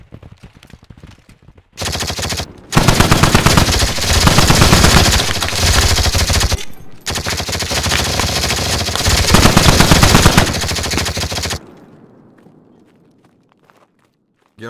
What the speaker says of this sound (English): Get on the machine guns on the lodge.